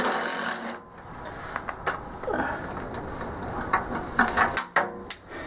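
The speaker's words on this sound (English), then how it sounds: "Man, I love this impact gun" An impact gun working on a snowblower auger flange repair outdoors in the cold, firing in short, sharp rattling bursts of hammering clatter, close and moderately loud with brief pauses between them.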